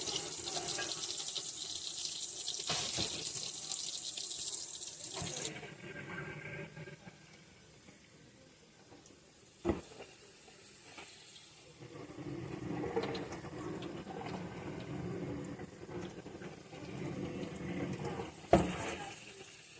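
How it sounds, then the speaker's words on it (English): Tap water runs into a kitchen sink while ground beef is cooked, a soft steady splashing rush that stops and restarts with a few clunks and clatters, fairly quiet and close. "You're going to want to make sure that you run that water a little bit to make sure all that grease goes down your drain."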